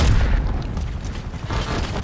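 A Semtex grenade goes off in a Call of Duty 6 battle, a deep heavy boom up front followed by a low rumbling tail and scattered blasts.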